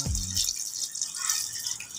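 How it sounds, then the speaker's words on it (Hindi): Water pouring into a pot of mutton pulao, a steady splashing gush with bright, close trickling throughout after a brief low knock at the start. "अभी हम इसमें पानी शामिल कर देंगे।"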